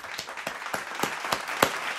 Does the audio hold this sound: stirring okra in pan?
no